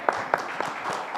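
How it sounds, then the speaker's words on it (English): A conference audience at an auto retail conclave claps briefly after a panel discussion, a short burst of applause with a few sharper claps standing out. "Let's have a huge round of applause, ladies and gentlemen, for that wonderful discussion."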